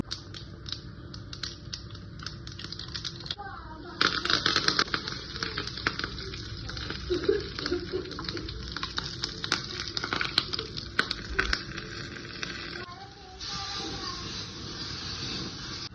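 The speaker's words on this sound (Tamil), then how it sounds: "சின்ன கிடாயில் எண்ணெய் ஊற்றி கடுகு உளுத்தம் பருப்பு தாளித்து கருவேப்பிலையும் போட்டு தாளிச்சிக்கலாம்" Mustard seeds, urad dal and curry leaves sizzle and crackle in hot oil in a small kadai, a steady close frying hiss with sharp popping bursts throughout, no talking.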